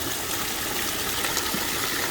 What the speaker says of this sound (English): when the water starts coming down, and your pump works